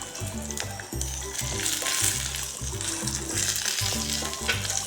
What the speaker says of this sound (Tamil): ஆனியன் நல்லா செவக்க வதக்கி எடுத்துக்கோங்க